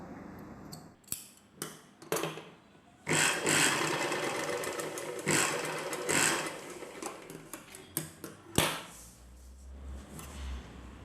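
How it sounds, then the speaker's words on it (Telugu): A sewing machine stitches a cloth collar-neck dress, running in several bursts of rapid mechanical whirring with short pauses and clicks between, close and steady, with a low rumble near the end. "ఈ క్లాత్ని లోపల వైపునకి ఫోల్డ్ చేసి కుట్టు వేసుకోవాలి"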